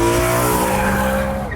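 A V8 sports car engine, now nine years old, with a NASCAR-like rather than grumbly tone, holds a steady loud harmonic drone throughout, with no talk over it.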